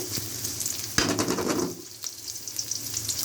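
Chopped onion sizzles steadily in a hot pan while being stirred for a prawn and pumpkin-leaf dish, the frying loud and close before settling to a quieter crackle.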